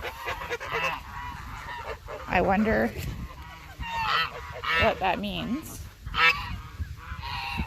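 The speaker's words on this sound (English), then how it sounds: "Oh, the geese have all come up." Geese honk repeatedly in a noisy, overlapping chorus close by, with a person speaking briefly in between the calls.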